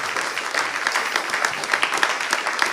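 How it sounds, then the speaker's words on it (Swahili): A crowd at a youth mentorship launch event applauds a youth director being welcomed, steady, continuous clapping with rhythmic pulses, fairly close and loud, with no talk over it. "Keep on clapping, keep on clapping."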